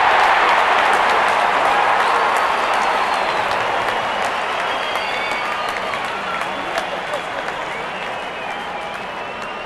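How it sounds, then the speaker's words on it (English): Stadium crowd at a Sri Lanka vs Ireland T20 World Cup cricket match cheers and applauds as the openers walk out before the first ball, a loud, continuous roar of claps and voices that eases slightly over time. "Openers walking in and the crowd cheering in anticipation."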